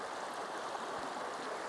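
A river or stream flows past green rocks in a steady, close, continuous wash of water, with no talk over it.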